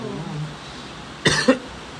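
Person coughs twice in quick succession, short and fairly close, over steady background hiss during a livestreamed Tongits card game.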